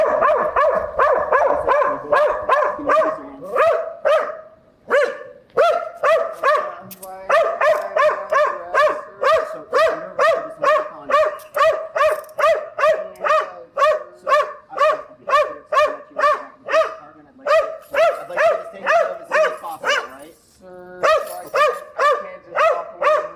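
A dog barks repeatedly and loudly close by in rapid, steady bursts with brief pauses, nearly continuous throughout, with faint voices occasionally underneath.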